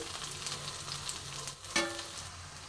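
Garlic and onion fry in oil in a pan with a spice tempering, giving a steady, close hiss of sizzling with one brief clink of stirring partway through and no talk.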